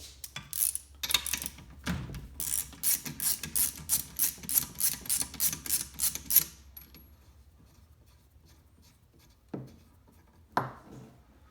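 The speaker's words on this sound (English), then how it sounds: "first thing we're gonna do is take the spark plugs out" Rapid ratcheting clicks from a socket wrench loosening spark plugs on a vintage Polaris snowmobile engine, a steady run of close, sharp ticks followed by quiet and a couple of isolated metallic clunks.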